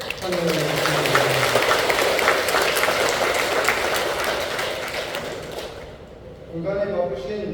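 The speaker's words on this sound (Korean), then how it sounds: "큰 박수로 환영합니다" An audience at a Buddhist temple service claps loudly to welcome a monk, a dense sustained round of applause that gradually tapers off, with an amplified announcer speaking at the start and again after it ends.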